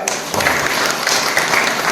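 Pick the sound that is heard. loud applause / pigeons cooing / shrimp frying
loud applause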